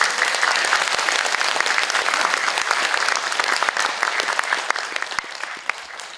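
An audience in a large conference hall at the National Assembly members' office building in Seoul applauds a speaker, sustained dense clapping from many hands that stays loud and even throughout.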